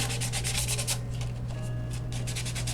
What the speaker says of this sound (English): I'm going to sand it a little bit because it's hard to get paint to adhere to plastic